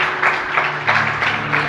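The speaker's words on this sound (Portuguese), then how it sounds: "Quantos podem aplaudir o Senhor nesta manhã? Aplaude o Senhor, queridos." A church congregation applauds together, giving a dense, steady patter of many hands with gentle rhythmic swells, loud and sustained throughout.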